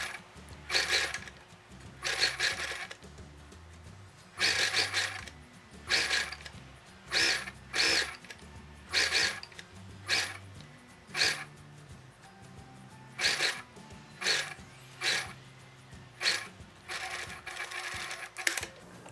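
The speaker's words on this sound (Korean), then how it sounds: "카라를 겉겉끼리 이렇게 마주 대시고 테두리 쪽을 따라서 1cm 시접으로 먼저 봉제를 해줍니다" Sewing machine stitching a collar edge with a gathered frill sandwiched in retro flower cotton fabric at a 1 cm seam allowance; short, rhythmic bursts of needle chatter separated by brief pauses, close and fairly quiet.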